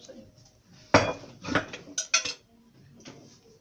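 Dishes and cutlery clink as a spoon is picked up, several sharp metallic and ceramic knocks in quick succession over a quiet background.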